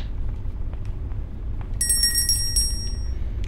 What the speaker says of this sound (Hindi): घंटी बजा बजा के दादी को बुला लिया हम लोगों ने हजार बार।